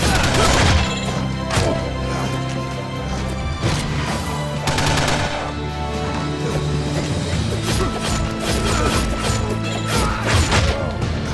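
Rapid machine gun fire in the side-scrolling brawler Shank 2, a continuous loud clatter of shots with crashes and impacts layered over game music throughout.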